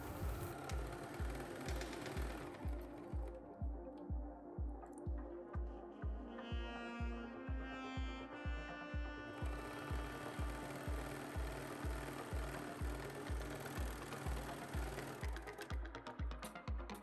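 A serger sews the shoulder seams of a turtleneck bodice, running a fast, even mechanical chatter of regular stitching beats at close range throughout, alone with no voices.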